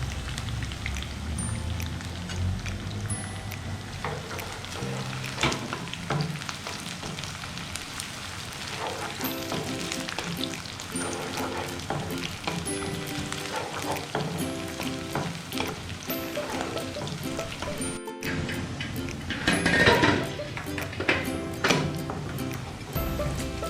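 Onions sizzle and fry steadily in hot oil for a tempering in a home kitchen, with occasional stirring clatter; the crackle is close, dense and continuous throughout, with no talking.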